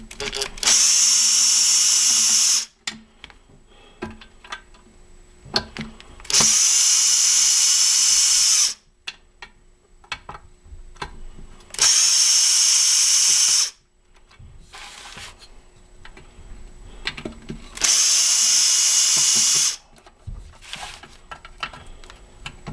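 A power drill backs screws out of a Briggs and Stratton Pulsa-Prime carburetor in four loud, steady bursts of about two to three seconds each, separated by quieter handling noises.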